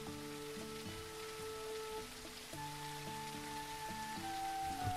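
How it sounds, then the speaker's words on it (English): Steady rain patters on a surface on a mountain, a dense, even hiss running the whole time, with repeating low tonal game-like notes and a sustained hum layered over it, no talking. "Oh, it's raining."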